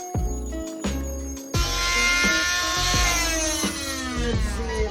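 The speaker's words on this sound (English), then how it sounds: "I'm just gonna see if I can sand it down." Power sanding on the cut edge of a plywood board inside a garage during a skoolie bus conversion, a loud continuous grinding whir with several short pauses and restarts in the first seconds, then steady for the rest.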